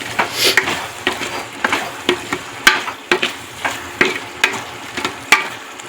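Tempered mixed vegetables of carrot, peas and green onion sizzle in a pan, a crackling fry broken by regular sharp stirring knocks roughly twice a second, close and loud.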